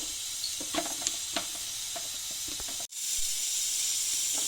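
Masala for a Kerala potti (tripe) fry sizzles steadily in a pan, a continuous even hiss with scattered soft pops and crackles. No one speaks over it.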